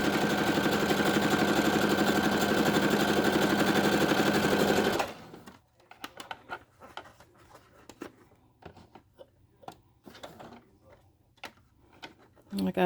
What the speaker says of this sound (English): all you're doing is sewing around a 1/4 inch all the way